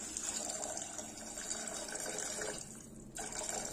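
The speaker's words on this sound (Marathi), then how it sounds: "तर इथे आपण साधारण 2 वाट्या पाणी घालणार आहोत" Water, about two bowlfuls, pours steadily into a pot of ragi soup with softly cooked vegetables, a continuous gushing splash with a brief dip in flow near the end.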